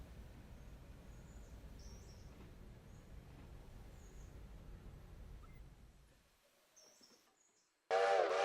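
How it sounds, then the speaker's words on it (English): A locomotive brake is applied while switching empty gondolas at a sawmill in the Railroader video game: a low engine rumble with faint birdsong fades to near silence, then a sudden loud, hissing burst of air cuts in at the end. "I'm just going to use the loco brake."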